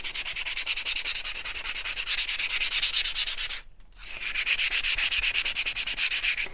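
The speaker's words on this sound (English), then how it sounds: "You can sand as heavy or as lightly as you want." Rhythmic sanding strokes over a painted wooden shiplap farmhouse platter, a close, regular scratchy swish repeating quickly, broken by a brief pause partway before the strokes resume at the same pace.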